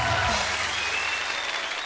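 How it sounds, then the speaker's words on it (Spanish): A TV studio audience claps, a brief dense burst of applause with a low hum beneath, fairly loud and steady. "Un aplauso para ella."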